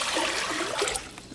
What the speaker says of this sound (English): Now we'll just pour it right into our